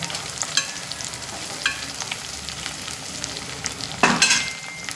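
Carrot, potato, meal maker soya chunks and bobbarlu beans frying in oil in a pan, a steady sizzle broken by stirring scrapes and a louder burst of frying near the end.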